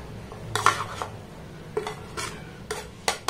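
A spoon stirs a thick gram flour and onion batter in a bowl, giving close, repeated scraping and clinking strokes at an uneven rhythm with no voices.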